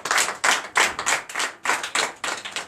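A church congregation at a Sunday worship service in Comè, Benin claps in acclamation, a steady rhythmic beat of about ten loud, evenly spaced claps with no voices over it.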